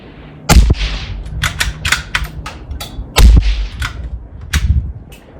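Suppressed .22 or 17 HMR rifle shots through an Additive Works KATAN suppressor, two sharp close cracks with a deep tone, each followed by a short echoing tail amid faint outdoor noise.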